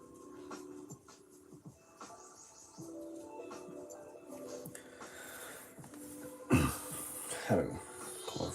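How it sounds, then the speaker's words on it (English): A person coughs a couple of times near the end, loud and close, after a stretch of quiet rustling and scratching. "Had a cough."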